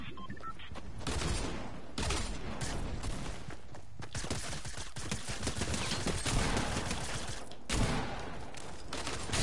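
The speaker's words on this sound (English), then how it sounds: "This gun is so accurate" Dense, continuous gunfire from a gun in Fortnite, rapid shots layered with impacts and game effects filling the whole stretch, loud and close.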